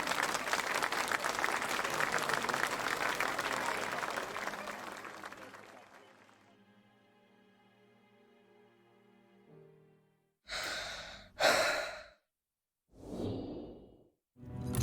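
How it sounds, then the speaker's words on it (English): A crowd in the video game SCP: Secret Files claps loudly for several seconds after a penny whistle solo, then the applause fades into quiet, followed by a few short breathy whooshes. "Applause, please."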